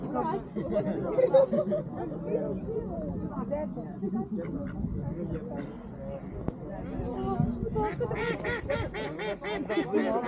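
Several ducks quack in a quick burst near the end, following a stretch of people chattering close by.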